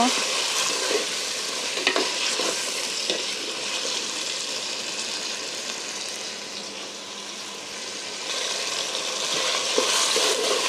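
Potato and ten or twelve jackfruit seeds are stir-fried in a pan, with a constant sizzle broken by repeated scraping and clattering strokes of a spatula, close and fairly loud.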